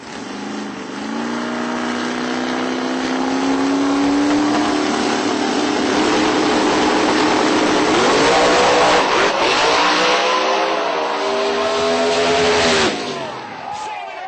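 An all-black Chevy Nova drag car at a Texas radial drag racing event rumbles loudly up close, its engine revving and climbing in pitch in rising sweeps before cutting off near the end, with faint talk beneath.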